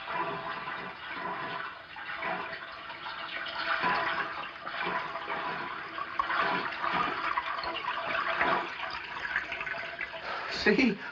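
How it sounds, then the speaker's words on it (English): Water runs steadily from a tap, as if filling a tub, a continuous splashing rush that holds for several seconds, with faint voices in the background. "Sounds like water running."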